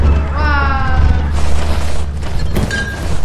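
Gunfire in the video game Lethal Company comes as heavy booming blasts and sharp cracks, mixed with excited voices talking over the action.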